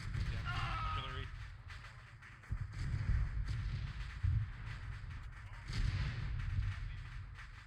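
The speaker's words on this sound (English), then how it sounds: "Artillery's hitting us." Artillery fire in Arma 3, heavy booms and rumbling impacts landing a few times in a row, with people talking over the barrage.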